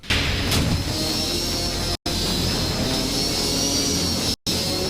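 A cartoon jet engine roars in a loud, continuous broadband blast with a whining high tone on top, cut by two abrupt silent breaks.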